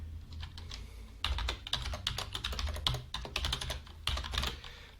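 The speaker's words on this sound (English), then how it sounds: "In the webhook URL, we are now going to type something fake." Rapid typing on a computer keyboard, close and fairly quiet, with bursts of crisp key clicks in irregular clusters and short pauses between them.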